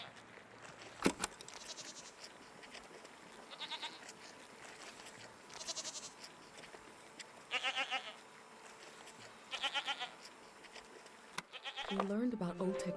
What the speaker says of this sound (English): What are these strange goat-like creatures? They're goats.